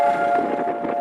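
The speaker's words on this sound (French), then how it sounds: "à Jérusalem, le temps s'arrête quand retentissent les sirènes" Memorial sirens sound across Jerusalem on Holocaust Remembrance Day, a sustained, steady wail holding a single tone against a broad wash of distant ambient noise.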